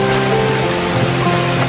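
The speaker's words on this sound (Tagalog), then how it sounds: "Malakas na ang ulan." Heavy rain pours in mountain terrain as a dense, steady hiss with no break, loud and close, filling the short stretch with no talk.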